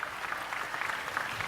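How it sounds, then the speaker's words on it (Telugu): A crowd at a public meeting with the Chief Minister claps together, a short burst of applause. "గట్టిగా చప్పట్లు కొట్టి అభినందించండి"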